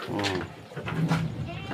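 PE goats in a pen bleat and cry close by, the calls rising over a constant barnyard hum while someone talks nearby.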